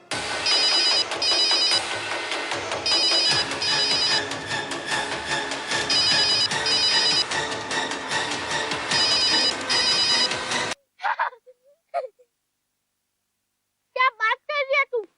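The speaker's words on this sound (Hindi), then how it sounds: "जसवंत का फोन है।" A telephone ringtone plays an incoming-call melody in repeating bursts for about ten seconds, loud and close. It then stops, and brief speech follows.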